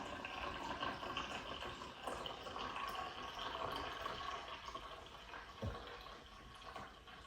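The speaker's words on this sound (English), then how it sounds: "when that's all drained through, there we go. So that's all the fluid back in the slot" Cleaning fluid drains back into the slot of a HumminGuru ultrasonic record cleaner, a faint, steady trickling and gurgling of liquid with no talking.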